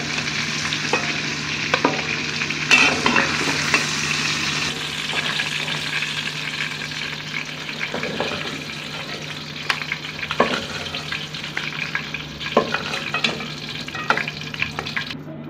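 Ghee sizzles steadily in a pan as onions brown for Sindhi biryani, with frequent stirring scrapes and clinks over a constant frying hiss, close and fairly loud with no talk.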